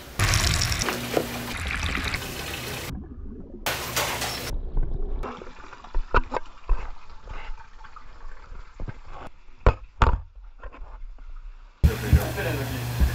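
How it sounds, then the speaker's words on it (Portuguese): Water pouring and trickling into a container being filled for washing flowers in a working restaurant kitchen, with splashes and clatter in the middle and a voice at the start and end. "a gente vai encher ela d'água pra gente fazer a higienização das flores"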